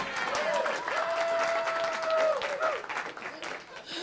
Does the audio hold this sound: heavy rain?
no